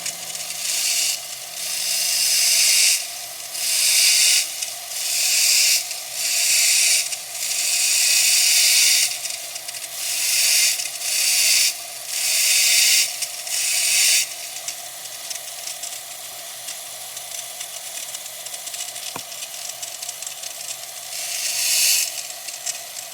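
A rotary tool grinds fire agate at 3000 to 5000 RPM with light pressure, its high whining bursts switching on and off in a steady, repeated rhythm. A softer, continuous grind follows, with a final short burst near the end. No one speaks.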